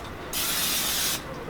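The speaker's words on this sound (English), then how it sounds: "you need to spray your pan." A single short burst of cooking spray hisses into a pan for under a second, close and fairly loud against a quiet kitchen background.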